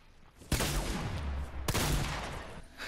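Gunfire from a Fortnite or Black Ops 4 match: two loud, sharp bursts of shots, each followed by ringing, rumbling decay, close and dominant with no talk.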